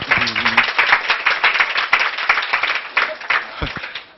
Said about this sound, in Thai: ปรบปรบมือให้คุณนัทพลหน่อยครับ